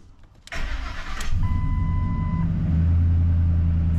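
A Ford F-150 pickup's engine cranks and fires up with a loud rush, then settles into a steady, close low idle with a faint whine above it.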